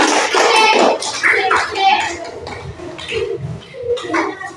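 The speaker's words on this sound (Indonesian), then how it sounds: "tepuk tangan untuk kelompok Ririn" Students in a classroom clap for a fellow student group with a short, loud burst of applause, while voices talk alongside and continue as the clapping thins out.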